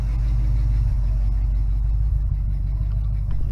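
A 1969 Pontiac Firebird engine idles close by with a deep, even, continuous rumble and a steady low chug throughout, with no voices.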